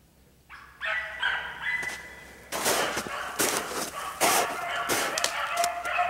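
A hunting dog barks while trailing a cottontail rabbit outdoors, sharp repeated barks at moderate distance amid field noise, with brief pauses between bursts.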